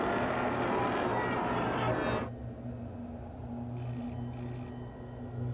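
A telephone rings inside the video game Hollow Body: two bright, trilling double rings separated by a pause, heard over a low droning room ambience.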